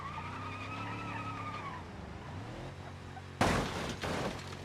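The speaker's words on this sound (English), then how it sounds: "I've tried power, but it just wheel spins" A V8 version of the standard truck in the BeamNG driving game, driven with a racing wheel: its engine drones steadily while the tires spin and squeal, then a loud, abrupt scrabbling burst of wheelspin near the end.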